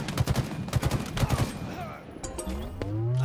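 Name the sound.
gunfire from behind in video game Halo Infinite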